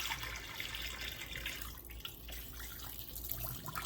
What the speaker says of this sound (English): Get out all that murky water.